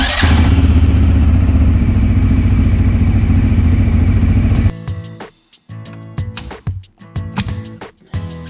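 A CFMOTO CFORCE 600 ATV engine idles steadily and loudly up close for several seconds to warm up, then cuts off, followed by intermittent clattering and handling noises.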